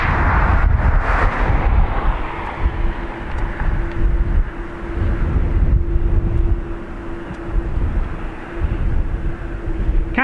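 A fixed-wing airliner on its takeoff roll at Dublin Airport gives off a loud, steady jet roar with a broad rumble and a sustained tone running through it, heard alone and unbroken for the whole stretch.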